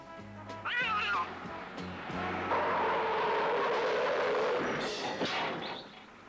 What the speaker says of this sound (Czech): Ale ta černá kočka.